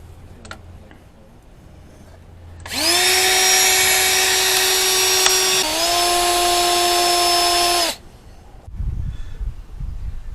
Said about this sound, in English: I put grease on there where I want to drill the hole